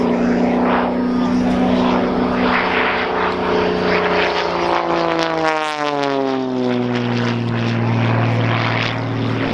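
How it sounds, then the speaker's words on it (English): An Xtreme Air XA41 aerobatic propeller plane flying at an airshow gives a loud droning engine and propeller buzz, its pitch sweeping downward as it passes overhead. "The aircraft rotating processionally around the aircraft propeller and using engine torque as well."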